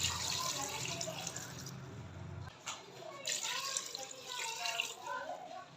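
Water pours into a pressure cooker while cooking paya with spices, a splashing, gurgling stream lasting a couple of seconds before softer sloshing and drips, with someone talking over it.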